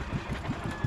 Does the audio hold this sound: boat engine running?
yes